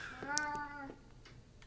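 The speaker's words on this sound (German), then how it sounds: "Schon wieder diese weiße Katze." A white cat in the video game Alice: Madness Returns gives a single drawn-out meow, faint and close, with quiet game ambience and small clicks afterward.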